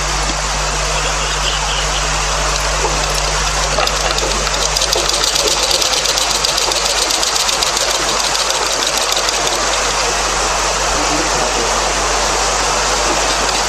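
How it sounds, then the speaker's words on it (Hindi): A sewing machine stitches piping onto a blouse with a fast, continuous mechanical whir and rattle at close range. It runs steadily throughout and nobody speaks. "यहाँ से हम फिर से वो सिलाई डालना शुरू कर देते हैं।"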